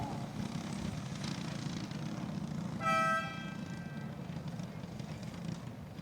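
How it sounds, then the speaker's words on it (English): A single short horn blast sounds at a kart race track over the steady drone of engines and background noise. "timer has sounded, horn has honked for the Mega Millionaires."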